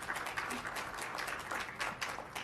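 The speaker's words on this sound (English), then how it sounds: "It's fine to applaud." A school board meeting audience applauds to welcome a guest, a soft, diffuse patter of scattered hands clapping throughout with no voices over it.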